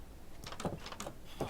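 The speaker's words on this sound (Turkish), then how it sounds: "Kapıyı açtım." A door opens in a video game set in a flat world, with a few soft clattering bursts over steady background hiss and no talk.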